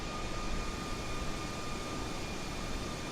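An Airbus A320neo takes off in Microsoft Flight Simulator on a Toronto to JFK flight, a steady broadband jet engine roar with a faint high tonal whine, continuous and unbroken.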